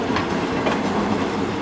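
A South Western Railway train moving through a busy London Waterloo terminal, its steady rolling rumble and faint clickety-clack of wheels held loud and close throughout, with no voices.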